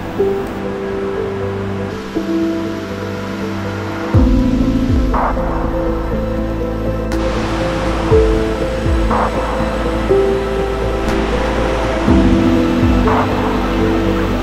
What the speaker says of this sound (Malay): Inilah kaki air terjun Jelawang.